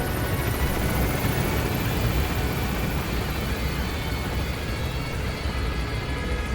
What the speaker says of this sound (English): You can have helicopters flying around and all sorts of stuff